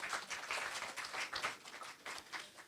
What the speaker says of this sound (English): Please give a round of applause for everyone.